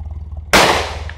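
A single sharp, loud gunshot fired at hard drives, cracking suddenly after a quiet low hum and then trailing off in a short echo.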